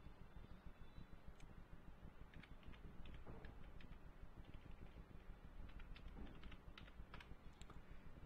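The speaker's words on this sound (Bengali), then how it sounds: "Now you have to type your favourite food." Fingers tap at a computer keyboard while filling in an email sign-up form, a faint, irregular patter of key clicks over steady room hiss.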